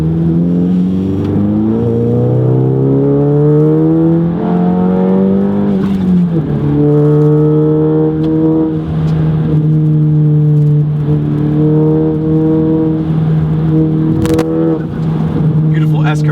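VW MK7 GTI on H&R lowering springs pulling hard up a mountain road, engine note rising steadily in pitch, dropping at a shift near six seconds, then climbing again, loud and continuous from inside the car.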